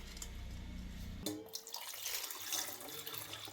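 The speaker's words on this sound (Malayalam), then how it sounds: "ഇതിനകത്ത് ചൂടുവെള്ളം ഒന്ന് ഊറ്റി കളഞ്ഞിട്ട് നമുക്ക് പച്ചവെള്ളം ഒഴിച്ചിടാം" Hot water drains off boiled quail eggs and cold water is poured over them in a kitchen, a low gurgling pour that breaks into a brighter, splashy running-tap rush, faint and close.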